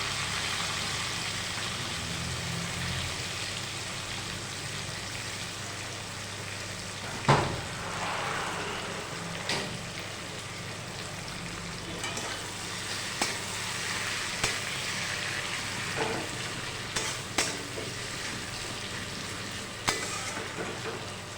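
Chopped tomato and coriander frying in a pan for rohu fish curry, a continuous close sizzle with periodic scraping stirs and a few sharper clinks of the utensil and no voices.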